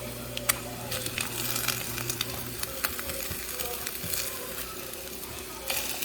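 An egg frying in a pan beside corned beef hash, giving a steady moderate sizzle with occasional scraping clicks as it is moved.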